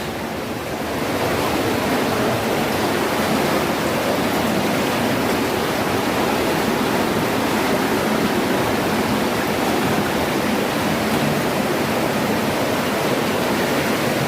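A big river rushes under a bridge as a dense, steady roar of water, loud and continuous for the whole stretch with no voices.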